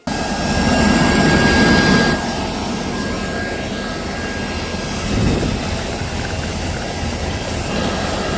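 A loud jet engine roars continuously, easing off after a couple of seconds then swelling again, like an airliner rolling in after touchdown at Agra.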